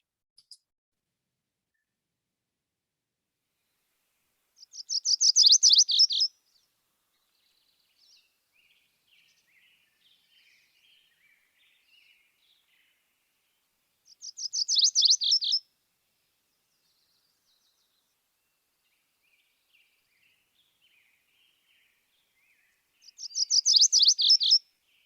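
A warbler sings in southwest Idaho, three short high rapid trilled phrases repeated about every ten seconds, clear and moderately close against near silence with faint chips between.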